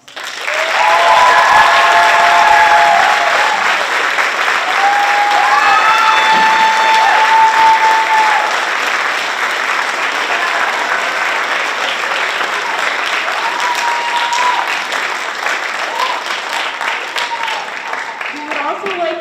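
A crowd at the Turn the Town Blue rally for Hancock Central School District bursts into loud, sustained applause with cheering and whoops layered on top, holding strong for nearly twenty seconds before easing slightly.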